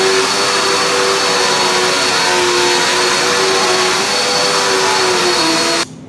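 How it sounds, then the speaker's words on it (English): A household vacuum cleaner drones steadily and loudly in a carpeted bedroom, holding a constant pitch throughout before cutting off abruptly near the end. "Is that too early to vacuum?"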